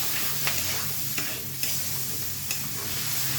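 Flat beans (sim) being stirred in a frying pan, a soft continuous sizzle with a few sharp scrapes of the spatula against the pan, close and fairly quiet, no talking.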